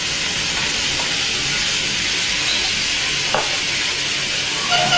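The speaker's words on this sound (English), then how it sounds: "So again, naked flame with the gas and ignite it." Whiskey flambé ignited in a pan of onions, mushroom and garlic over a gas flame roars as a loud, continuous sizzling hiss, steady throughout with a brief crackle partway.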